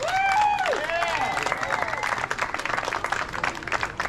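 A crowd applauds at a Little League ceremony, with loud, dense clapping, rising whistles and cheers, and chatter mixed in throughout.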